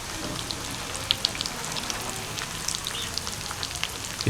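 Chicken and potato cutlets with green onions frying in hot oil, giving a steady close crackle and sizzle with scattered sharper pops throughout, no voices.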